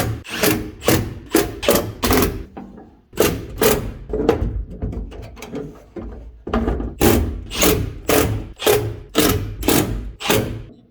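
Repeated bursts of a power drill whirring in short, rhythmic pulses as it drills a hole in a car panel for a speaker mount, close and loud, with brief pauses between runs.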